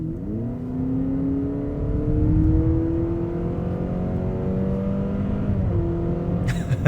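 A Honda CR-V 2.0L e:HEV hybrid gains speed with a smooth, steady engine drone and gently rising whir, heard from inside the cabin at moderate loudness without talk.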